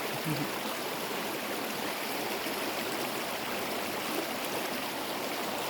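A river stream rushes in a steady, close, continuous wash of flowing water, unbroken and with no voices.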